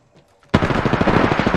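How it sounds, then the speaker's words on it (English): Automatic gunfire in the game Apex Legends: after a brief quiet moment, a loud, rapid burst of shots breaks in and keeps hammering steadily to the end. "I'm getting shot at."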